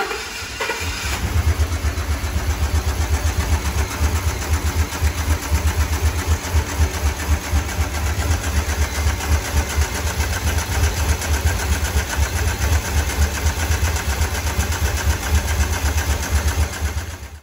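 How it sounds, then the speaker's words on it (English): A Ford 6.2L truck engine with a broken valve spring misfiring, idling rough with a steady, uneven, loping pulse heard close and loud, with no talking. "So this is what the truck sounded like when it had this bad valve spring."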